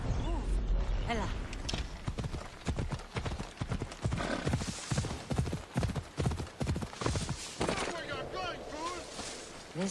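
Horse hooves clip-clop in a steady rhythm through the Assassin's Creed Odyssey video game, with a neigh and voices talking over the trotting along with lapping water.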